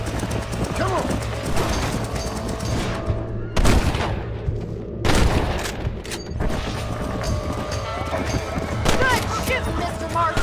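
Gunfire crackles in the Red Dead Redemption PS5 remaster, a few sharp, loud shots and bursts standing out over a busy bed of game sound with hoofbeats and a voice talking.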